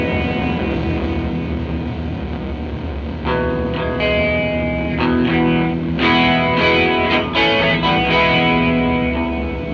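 Electric guitar played through a Rocket flanger pedal left always on, giving a sweeping, swirling, distorted tone with chords and single notes ringing steadily for about ten seconds, no talking.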